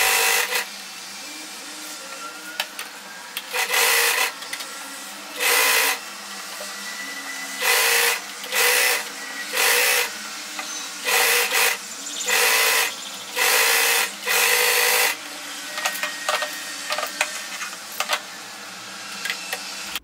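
A sewing machine stitches sleeves onto a girl's frock in repeated bursts of rapid mechanical chatter, each run lasting about a second with short pauses between, close and fairly loud with no talking.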